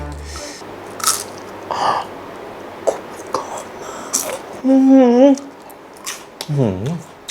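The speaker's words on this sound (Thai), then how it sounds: "เวเฟอร์กรอบมาก" Close, crisp bites into a very crunchy chocolate wafer give several sharp crunches, followed by chewing, while a person speaks softly between bites.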